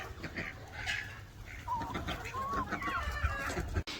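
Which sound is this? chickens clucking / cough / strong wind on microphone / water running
chickens clucking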